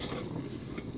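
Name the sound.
rice toasting in a pan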